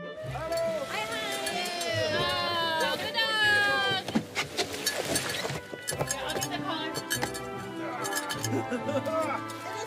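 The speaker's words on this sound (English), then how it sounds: "Strong little goat." Goats on a farm in Norway bleat several times, wavering and nasal, mixed with clinking and rustling, while people talk over them at close range.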